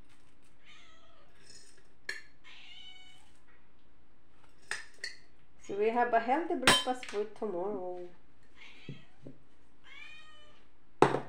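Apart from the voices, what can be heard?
pet cat meowing in the kitchen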